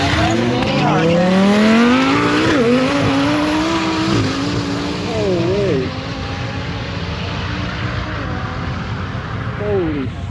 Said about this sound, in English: In lane 1, we have Ben Dodson in the Honda Civic, and in lane 2, John Peplow in the 2015 Lamborghini Huracan.